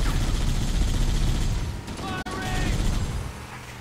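Gunfire in Halo: Combat Evolved Anniversary during a fight with Marines near a hillside structure, a dense clattering rattle of shots over steady game noise with a brief drop, voices talking underneath.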